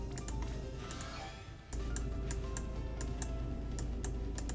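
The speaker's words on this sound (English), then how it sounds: "you'll be hearing those mouse clicks for very much longer" Computer mouse clicks during play of Final Fantasy Brave Exvius, a steady run of sharp, close ticks spaced roughly every half second over a constant background hum, with a brief dip partway through.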